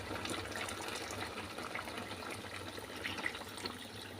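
Hot broth poured over beef in a pot for Algerian white-sauce couscous, a steady, continuous gushing pour that runs unbroken for about four seconds with no voices.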